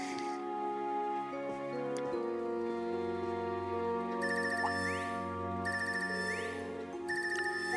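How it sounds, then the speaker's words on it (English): A phone ringtone from the video game Trails of Cold Steel III chimes in repeated bright melodic bursts over a steady backdrop of game music, looping several times at an even rhythm. "This ringtone, I haven't heard this before."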